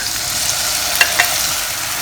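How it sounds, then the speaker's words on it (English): Diced tomatoes sizzle and fry in hot oil in a pan for stir-fried eggs with tomatoes, a loud, steady crackling hiss with a couple of brief sharp pops partway through. "First, heat up a pan with some oil. Put in the diced tomatoes."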